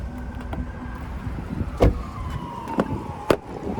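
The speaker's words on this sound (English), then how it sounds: "I'm sure you can hear that siren though." An emergency vehicle siren passing outside sounds faint and distant, a thin wavering tone behind a quiet breeze, broken by a few sharp clunks from inside a 2025 GMC Sierra 1500 Denali Ultimate pickup.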